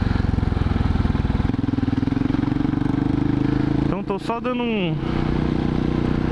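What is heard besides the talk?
Husqvarna SM610 2007 motorcycle riding slowly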